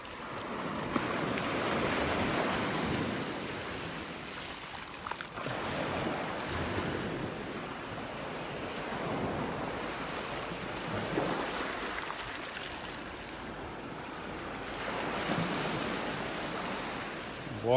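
Gentle surf at a beach in North Naples, Florida washes up and drags shells back in slow, soft swells, fairly faint and recorded up close with some wind buffeting the microphone.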